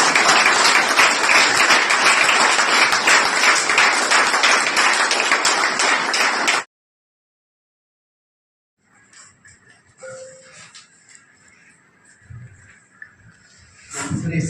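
An audience at an alumni event at Shri Sanatan Dharma Multipurpose High School, Bhavnagar, applauds loudly and densely for about six seconds. It cuts to silence, then quiet room noise follows with faint voices.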